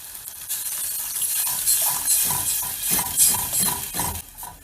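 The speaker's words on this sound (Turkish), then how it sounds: "Ardından su veriyoruz." Water is poured into a pan of sizzling tomatoes and onions for Bodrum-style çökertme kebab, giving a bubbling hiss with light clinks of a utensil stirring against the pan.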